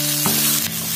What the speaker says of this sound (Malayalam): ഇനി ഉള്ളിലേക്ക് സോസുകളൊക്കെ ഒന്ന് ഒഴിച്ചു കൊടുക്കാം